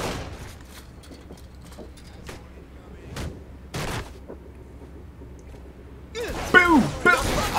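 Pistol fire in the video game Saints Row The Third Remastered rings out as scattered single sharp shots over a quiet bed, followed by a louder, busier burst of noise near the end.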